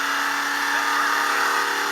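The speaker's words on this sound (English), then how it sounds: "You can hear that high-revving engine" A high-revving car engine pulls hard in third gear at speed, a loud, steady, sustained roar with no breaks across the whole stretch.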